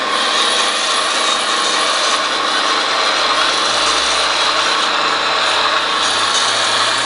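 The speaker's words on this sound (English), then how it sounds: "give it a little throttle, and then increase the throttle as the sound revs up" An International RC dump truck's simulated motor sound revs steadily under throttle, a dense, continuous whirring drone that holds loud and close, with no talking over it.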